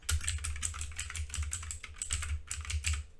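Fingers type a formula on a computer keyboard, rapid irregular clusters of crisp key clicks close by with short pauses between bursts.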